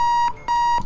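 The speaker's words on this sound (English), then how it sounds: "Turn off the alarm." Electronic alarm clock beeping in the bomb-defusal game Keep Talking and Nobody Explodes, a steady high tone sounding in two long pulses separated by a short gap, loud and alone without speech.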